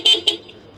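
A SAQ 150-200cc motorcycle horn gives two short, loud toots in quick succession, close by, followed by a faint idle hum.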